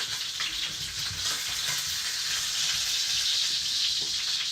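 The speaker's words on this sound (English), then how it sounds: "we're going to deglaze it with this red wine" A pan of steak and mushrooms with rosemary and garlic is deglazed with red wine, giving a loud, steady, close hissing sizzle with light scraping throughout.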